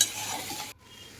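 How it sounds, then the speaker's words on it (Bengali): Fried potatoes and pointed gourd stir-fried with spices in a pan over low to medium heat, a steady sizzle with stirring that cuts off abruptly near the end, leaving a quieter hiss. "এবার আমি দিয়ে দিচ্ছি ভেজে রাখা সবজিগুলো আলু আর পটল মশলার সঙ্গে বেশ ভালো করে কষিয়ে নেব"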